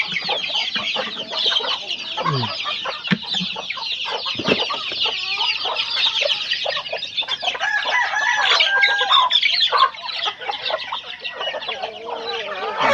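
A flock of chickens clucks and squawks continuously and close by, a busy overlapping chatter with occasional louder calls.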